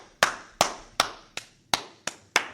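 Hands clap seven times in a steady, even rhythm, each clap a sharp, close crack with a short tail, alone and with no voices.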